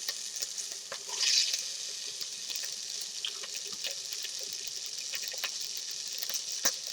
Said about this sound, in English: I'm going to start here with some onion and celery in that hot oil